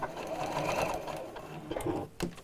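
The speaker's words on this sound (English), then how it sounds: "sew it in place. Could reverse back a little bit, make that a strong seam." A sewing machine stitches a seam along fabric with a ribbon, running in a steady close whir with a brief pause and a short reverse burst near the end.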